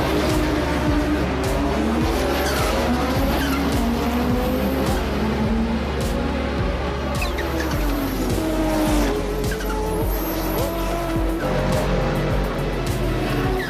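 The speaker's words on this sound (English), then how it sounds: "The first car which then came out on track was the 1988 Audi Trans Am." A 1988 Audi Trans Am race car runs on a track, its engine loud and close with rising and falling revs through gear changes, and tires squealing in spots.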